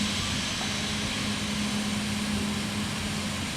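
Steady, even whine and rumble of a Citation CJ4 jet's engines in a flight simulator, idling on the ground near a runway, a constant broadband drone with a faint low hum and no voices.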